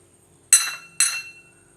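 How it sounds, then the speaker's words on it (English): Two bright ringing strikes on a china bowl, about half a second apart, each sharp clink decaying into a sustained resonant tone in a quiet room. "And I strike a little bit here on the china bowl, china plate bowl."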